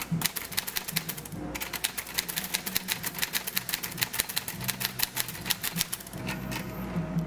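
Keys clack quickly and steadily on a 2023 Rover typewriter, a dense run of sharp strikes with a brief pause before resuming, heard up close and alone.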